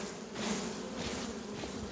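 Honeybees buzz around a hive frame, making a continuous low drone from many insects that swells slightly at moments, close by and moderately quiet, with no talking.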